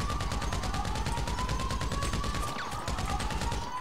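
Rapid automatic gunfire in GTA 5 Online during The Doomsday Heist, a steady, loud stream of evenly spaced shots that runs for several seconds and briefly pauses near the end, with no talking.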